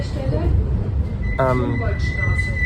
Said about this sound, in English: Welcome to the tram 5.